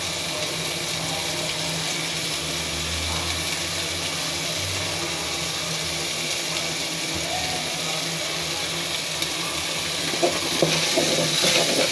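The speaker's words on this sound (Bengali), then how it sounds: "দারচিনি জিরার ফোড়নে সব কিছু কষিয়ে নিচ্ছি সুন্দর করে" Blended ginger, garlic and onion paste sautéed in oil with cinnamon and cumin gives a steady, low sizzle with soft stirring scrapes that continues evenly and fairly quietly.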